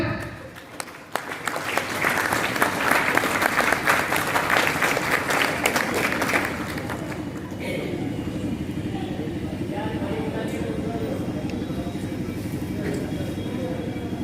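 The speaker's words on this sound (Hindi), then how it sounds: "जोरदार ताली से इनका स्वागत किया जाए।" Loud, sustained applause from a large audience in a town hall at a school association's annual function, dense and continuous for several seconds before easing into a lower, steady crowd murmur.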